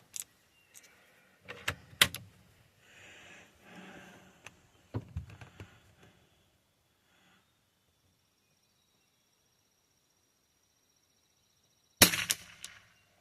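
An Anschutz 64 rifle firing its fifth shot after repair: a single sharp, loud crack near the end, preceded by quieter mechanical clicks and handling noises and then a long near-silent pause.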